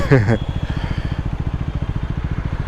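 A Triumph Scrambler 400 X motorcycle engine idles with a steady low, pulsing thump, close and moderately loud, after a brief burst of someone talking at the start.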